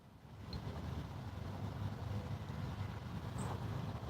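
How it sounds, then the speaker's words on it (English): Wind blows steadily outdoors at a fishing spot, a low, soft rushing rumble, fairly faint and unbroken, with no talking. "It's rather windy."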